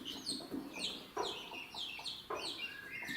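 A broody hen clucks softly beside her newly hatched chicks, giving a steady run of low, regular clucks up close with no talking.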